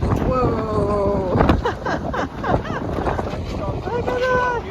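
Strong gusty wind buffets the microphone outdoors in a park, a steady rumbling roar running under continuous close talking from a woman.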